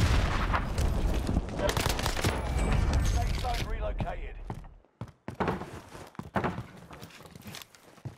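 Rapid gunfire and grenade blasts from a Warzone match, including a no-stock BAR rifle, with dense, loud bursts of shots for several seconds, then a short pause and scattered sharp shots and thuds.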